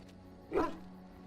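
A dog in Dragon Age Origins gives one short whimpering yelp, brief and close, over a quiet game background.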